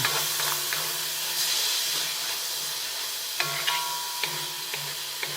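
A teaspoon of garlic sautés in a pan for chicken fried rice, making a constant close hiss and sizzle broken by occasional light clinks of a utensil, with no talking.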